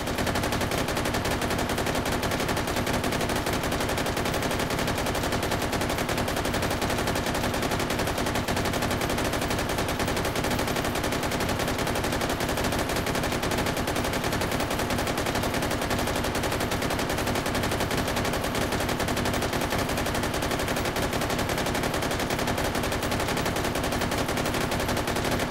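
Armor-piercing incendiary rounds fire nonstop in Hot Dogs, Horseshoes & Hand Grenades VR at a paper target. The dense, loud, rapid automatic fire runs unbroken for about twenty-five seconds with no pauses or talk.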